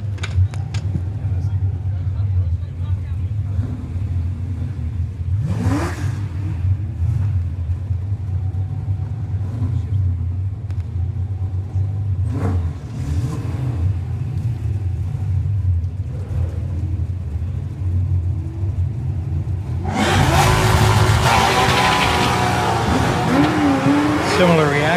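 A 1990 Ford Mustang and a 1988 Ford Mustang line up for a head-to-head eighth-mile drag race: a steady low engine rumble runs under a talking announcer, then a much louder, wide roar bursts in near the end as the cars launch.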